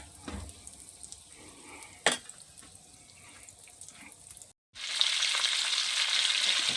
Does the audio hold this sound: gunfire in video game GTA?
no